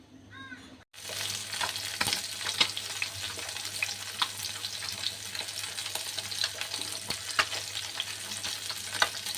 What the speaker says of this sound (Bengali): মাছ ভাজা হয়ে গেছে আমার